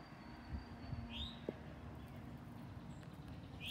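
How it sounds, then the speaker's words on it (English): Birds call outdoors among trees and fences, with two short rising chirps standing out faintly over a steady background hum and a few soft low knocks. "You hear some birds?"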